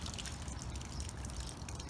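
Water dripping and trickling from a 1973 MGB GT, a steady wet patter close by with a low rumble underneath, no voices.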